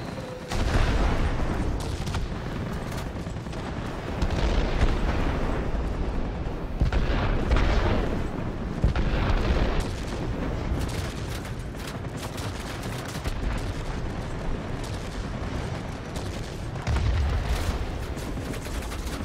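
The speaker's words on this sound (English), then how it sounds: "Let's just drop these bombs real quick." Bombs dropped from a multi-role aircraft in World of Warplanes explode in a rapid series of deep, rumbling booms, with heavy bursts recurring every few seconds amid continuous low battle noise.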